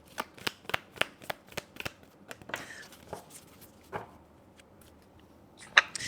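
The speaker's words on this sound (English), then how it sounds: "Find out more when we get more cards out for that." Tarot cards are shuffled and drawn in a quick series of crisp snapping flicks and riffles, followed by softer sliding and placing sounds and one last sharp card slap, close and clear.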